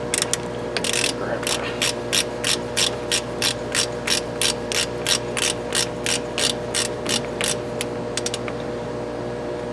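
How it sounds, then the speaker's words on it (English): A socket wrench ratchets while snugging down a brake part during a brake install, giving a long, steady series of quick, evenly spaced clicking bursts, close and clear with no talking. "you're only going to tighten this down with a socket wrench right now until it just stops"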